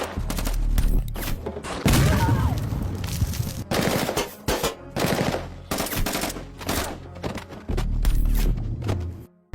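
Dense gunfire from enemy troops in an action film battle, with rapid machine-gun bursts and heavy booming shots overlapping almost continuously, loud and close, with brief gaps between volleys.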